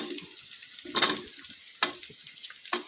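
Chopped onion and potato tossed into hot oil for a beef and potato stir-fry, a soft steady sizzle broken by a few sharp scraping stirs of the spoon.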